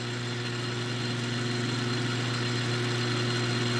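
Buffing wheel spinning steadily while polishing an SU carburetor suction chamber, a constant loud motor hum with strong low tonal lines and no breaks, no voices.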